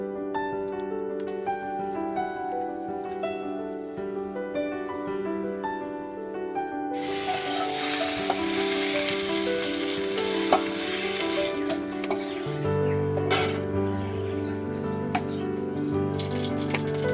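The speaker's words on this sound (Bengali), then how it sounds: "প্রথমে আমি মোরলা মাছটা ভাজা করে নেব।" Small mourala fish fry in oil in a kitchen pan, a bright crackling sizzle that swells sharply partway through and keeps going, with occasional stirring and clinks.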